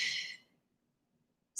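Sharp exhale during an upper-body workout exercise, a short close breathy release that trails off into near silence, followed by a brief hiss at the end.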